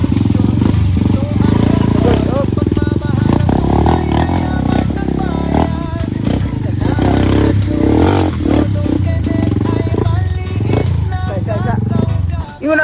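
Motorcycle engine straining and clattering over a rocky trail, loud and continuous throughout, with someone talking over the noise.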